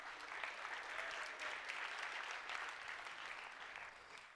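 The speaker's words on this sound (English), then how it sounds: "Let's give them a round of applause as well." Audience at a chamber of commerce community event applauding sponsors, steady dense clapping from a sizeable crowd, heard faintly and evenly throughout.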